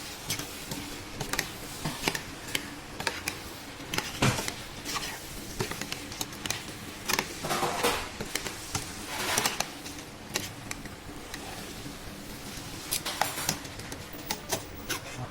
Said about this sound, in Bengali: এখন আমি এটাকে সুন্দর করে চালটা আরও মশলাটার সাথে মিক্স করে নেব।